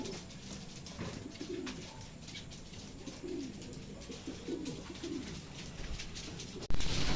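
Racing pigeons cooing softly after feeding in a loft, low repeated coos scattered over a steady hiss of background noise, fairly faint, followed by a sudden loud knock or flutter at the end.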